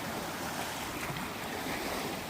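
Ocean waves washing over rough rocks at a Siargao beach resort at high tide, a continuous loud broadband rush of surf and wind with no pauses.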